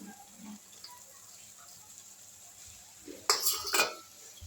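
A utensil cuts fried chapati into slices in a pan. Soft scraping comes first, then a quick pair of louder metallic clacks near the end.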